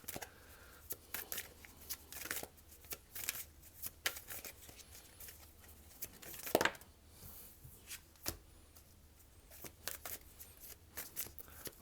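Tarot cards being shuffled by hand before a Sagittarius reading, a quiet run of soft riffling flutters and taps with a sharper snap near the middle, no voice heard.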